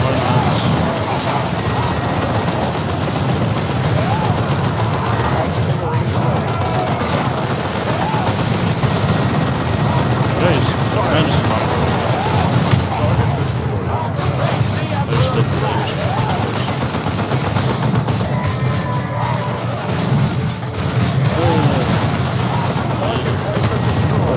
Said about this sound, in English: Artillery strike.